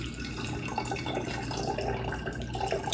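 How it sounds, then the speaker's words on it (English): Fruit-infused probiotic drink is poured through a kitchen strainer, a steady close trickle and splash of liquid with small drips running continuously for a few seconds without talking. "So I'm just gonna strain this off."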